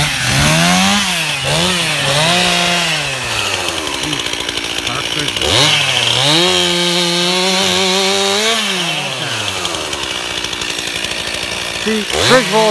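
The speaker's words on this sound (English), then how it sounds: "Tree is down. You got a chainsaw." A chainsaw cuts through a Christmas tree, its engine revving up and down in loud, close, wavering surges throughout, with brief idle dips between cuts.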